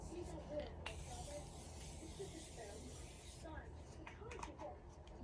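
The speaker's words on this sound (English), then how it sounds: "I'm going to go in one more time with my set and spray" A steady aerosol hiss of makeup setting spray runs for about two and a half seconds, close to the mic, over quiet room noise.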